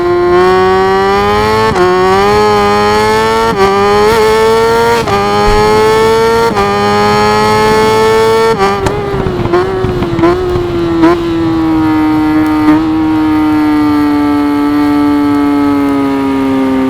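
A Kawasaki ZX10R superbike in RIDE 5 holds a loud, steady high-pitched engine whine. It rises through the gears in stepped shifts, then drops into a falling note as it slows, with no talk over it.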